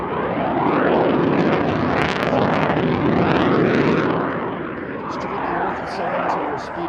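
An F/A-18 Super Hornet roars on full afterburner during an airshow demonstration, a loud, sustained jet rumble that swells and fades slightly as it passes, with a voice talking over it.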